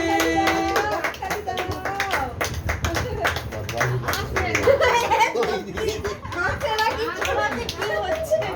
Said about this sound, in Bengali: সবাই হাততালি দিচ্ছে সেই দিকে